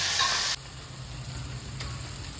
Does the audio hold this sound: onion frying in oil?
yes